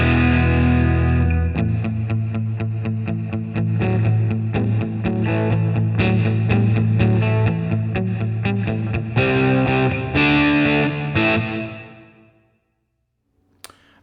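Distorted electric guitar played through a Nux MG-300 with the preamp and EQ bypassed, sustained chords and strums ringing loud and steady for about twelve seconds before cutting off to silence.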